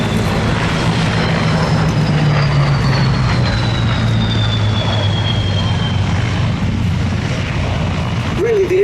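A vintage WWII fighter flies past at an airshow with a loud, steady piston-engine drone, its pitch slowly dropping as it passes, under continuous background noise.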